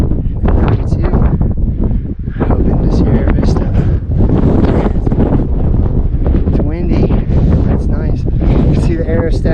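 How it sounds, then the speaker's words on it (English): Strong wind buffets the microphone on a mountain ridge during a traverse of the Huachuca Mountains, a loud continuous roar with gusty surges throughout. "It's windy, windy, windy, windy."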